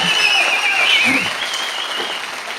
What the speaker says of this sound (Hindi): देखिए जोरदार तालियां